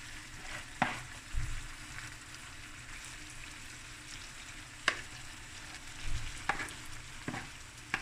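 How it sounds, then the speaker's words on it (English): Seafood rice stir-fried over high heat, a soft steady sizzle punctuated by occasional sharp scrapes and knocks of a spatula against the pan. "I put the stove on a high heat, and I'm just going to stir fry it."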